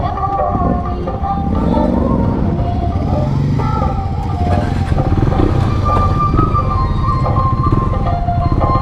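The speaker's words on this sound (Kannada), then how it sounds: "ಅರೌಂಡ್ ಸಮಥಿಂಗ್ 75 ಬೈಕ್ಸ್ ಬಂದಿದೆ ಈ ಕಡೆ" A large group of about 75 motorbikes, including KTM Dukes, riding together on a road, a dense, steady roar of many engines close by with a continuous rumble and no pauses.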